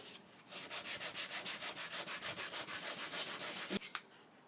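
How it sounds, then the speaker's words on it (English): Repeated rhythmic strokes of sandpaper rubbing over leather repair filler on a sofa, a steady back-and-forth scratching that stays close and fairly loud before stopping with a small knock near the end. "Tap off your excess, and sand."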